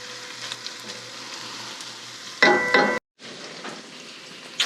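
Onions sautéing in a pan for a ratatouille-stuffed summer squash, a steady soft sizzle with a louder burst of frying and stirring partway through, then a brief silence before the sizzle resumes.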